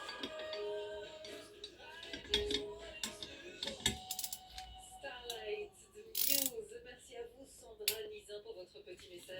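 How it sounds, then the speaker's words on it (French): A wrench gives small mechanical clicks while the rear sprocket bolts are tightened in a cross pattern during a motorcycle sprocket and chain kit install, with speech over the clicks. "On entend le petit déclic hein, quand le serrage est bien fermé et serrage en croix."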